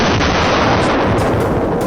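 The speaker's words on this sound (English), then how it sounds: "A clean, crisp gunshot echoed." A rifle shot fired at a wild boar feeding on farmland, one loud, dense blast spreading into a sustained, noisy roar across the whole stretch.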